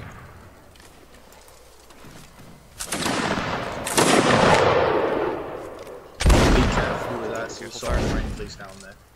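Musket volleys crack out in the Mount and Blade Warband battle game, several loud broadband bursts spaced a second or two apart, while players talk over voice chat between the shots.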